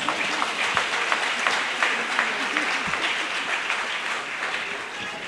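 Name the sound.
audience applause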